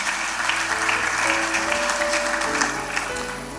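Applause from a wedding crowd fills the whole stretch, a dense steady clatter of many hands clapping at close to moderate distance, with a faint voice or two beneath it.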